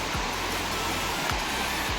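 A river in the Sahyadri jungle rushes in a steady, full broadband roar, close and unbroken, with a few low thumps beneath the flow and no talking.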